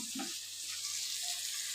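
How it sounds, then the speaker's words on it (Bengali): Water poured into a pan of simmering jujube (kul) chutney gives a steady, soft hiss and gentle sizzle, close by and continuous throughout. "এবার আমি এতে জল ঢেলে দেব"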